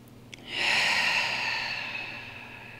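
Slow, close breath of someone lying on their side in a yoga pose, a single long airy exhale that swells and gradually fades in a quiet room.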